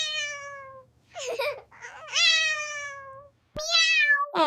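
A cat meows up close: a run of loud, drawn-out cries with short pauses between them, ending in two quick meows.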